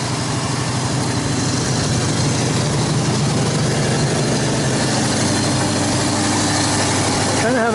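A 1986 Chevy K-10 truck engine idles roughly with a loud, continuous low rumble and uneven throb that stays close and constant throughout.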